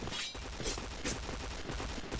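Rapid gunfire from the Point Blank video game, a dense run of loud repeated shots with sharp bursts roughly every half second over a constant layer of game noise.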